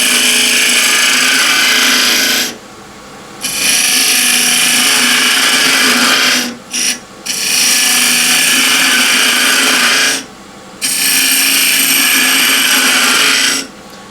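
A 19mm square scraper cuts walnut on a wood lathe, giving a steady loud whirring, rasping drone that drops out briefly three times as the tool lifts away, then resumes, with no voices.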